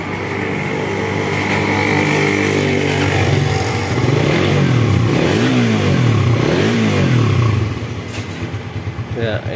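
A Suzuki Satria F fuel-injected motorcycle engine revs up loudly in repeated surges, then falls back to a rough, uneven low-RPM idle that sputters as if about to die, a fault where it stalls off throttle.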